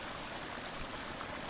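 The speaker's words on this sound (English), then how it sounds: "So let's put a permanent waterfall between me and the Dahaka." A waterfall in the video game Prince of Persia: Warrior Within rushes steadily, a faint, even hiss of falling water with no other sounds.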